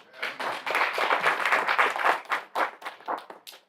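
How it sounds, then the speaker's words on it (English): Audience applause at a Caribbean arts society gathering in New York, a brief burst of dense clapping that swells and then thins into scattered claps as it fades. "Why don't you all give yourselves a round of applause?"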